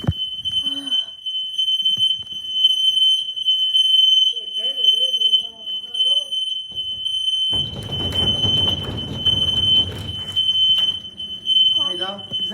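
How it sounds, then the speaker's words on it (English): A smoke alarm sounds a continuous piercing high beep throughout, with people talking and reacting beneath it and a burst of rustling noise partway through. "Is it a smoke alarm?"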